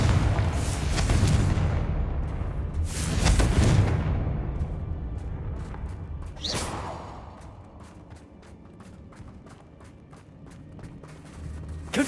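Confringo blasting-curse explosions from Hogwarts Legacy boom out in a loud rumbling burst, a whooshing cast, another heavy blast, then a string of sharp crackling ticks trailing off.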